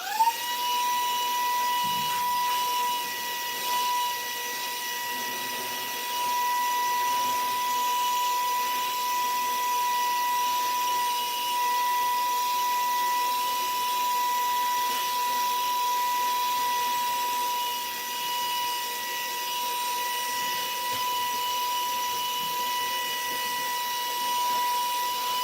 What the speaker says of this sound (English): A good dose of vacuum first.